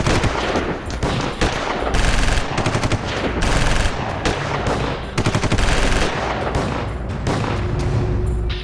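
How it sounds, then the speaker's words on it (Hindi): Bursts of rapid AK-47 automatic gunfire crackle repeatedly on a street, loud and close, in long rattling volleys with brief gaps between them. "बीच सड़क पर AK-47 थामे बेखौफ बेफिक्र अपराधियों ने मानो गोलियों की बरसात कर दी।"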